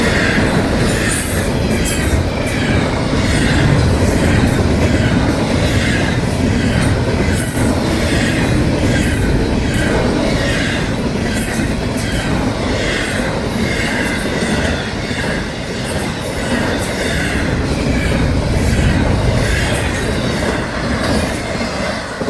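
A Florida East Coast Railway train rolls past a road crossing at night, a loud, close, continuous rumble of wheels with rhythmic clickety-clack and occasional squeal throughout.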